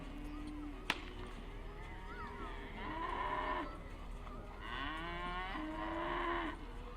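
Cattle moo repeatedly at a campdraft arena, several long drawn-out lowing calls at moderate distance over steady outdoor background noise, with a faint voice in the mix.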